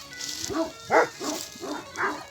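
Anatolian shepherd dogs barking, about five separate deep barks spaced roughly half a second apart, moderately close and fairly faint, with no talk over them.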